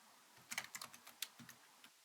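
Quick, close keystrokes on a computer keyboard as a folder name is typed, a short irregular burst of about a dozen soft clicks.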